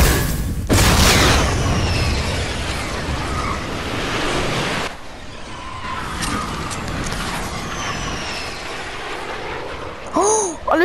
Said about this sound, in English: I wanna try and rocket ride myself out of here